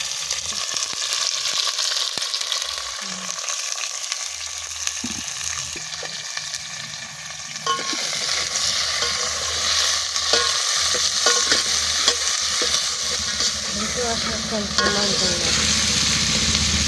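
Green chilies, onion and curry leaves fry in a hot pan as a tempering for dal curry, giving a steady sizzle and crackle with occasional stirring scrapes.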